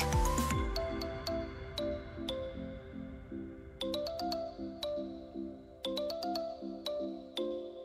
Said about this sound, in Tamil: அதாவது ஒரு நோட்டிஃபிகேஷன் இருக்குது சவுண்டோட உங்களுக்கு மெசேஜ் வர ஆரம்பிச்சிடும்